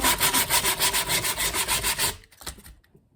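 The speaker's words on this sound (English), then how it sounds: "Next, some really coarse sandpaper. This is like 60 grit." Coarse 60-grit sandpaper rubs rhythmically over the corners of a wooden cigar box guitar body, about a dozen quick, close, scratchy strokes, then it stops with a few faint handling sounds.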